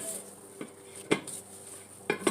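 Potato bread roll dough being mixed in a bowl, with soft scraping and a few sharp clinks of utensil against the bowl at intervals, close and fairly quiet.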